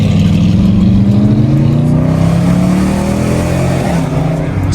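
Dodge Charger Scat Pack engine revving loudly and continuously at close range, its pitch rising in sweeping climbs during a late-night drive through traffic, with no talk over it.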